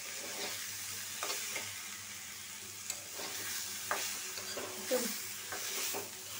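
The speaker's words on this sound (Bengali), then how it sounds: "এখন ভালো করে মিশিয়ে নিব।" Chicken with turmeric and coriander powder is stirred in a frying pan. Soft scraping strokes recur every second or so over a constant low sizzle, with no talking.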